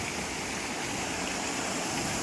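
A waterfall beside the lakeshore at Brant Street Pier in Burlington roars as a steady, dense rush of falling water, loud and continuous with no pauses or voices.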